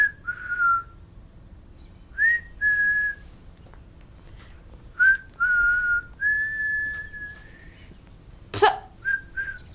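A person whistles close by in short, clear bursts of steady tones, some rising into a held note, with pauses between phrases and one sharp, brief sound near the end.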